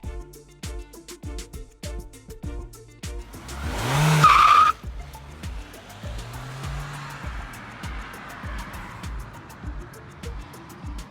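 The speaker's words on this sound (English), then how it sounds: "The car starts and works correctly." A Citroen Peugeot car with a Bosch ME7.4.5 engine control unit cranks with rapid starter clicks, catches in a brief loud burst, then settles into a steady idle that runs on quietly at close range.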